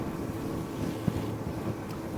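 A 2023 Bennington 25QFBA pontoon boat runs across wakes on Lake of the Ozarks, giving a steady low rumble of hull and water under wind noise, with one soft thump partway through and no voices.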